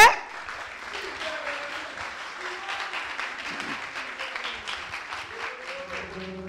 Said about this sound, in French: Je vais pour nous applaudir l'artiste là pour moi, s'il vous plaît.